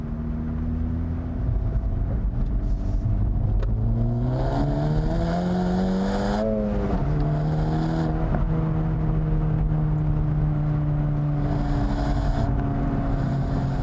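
Engine of a 2024 Acura Integra Type S, driven in Sport Plus mode, climbs in pitch as it accelerates, shifts, and pulls again, a loud steady drone with road noise throughout.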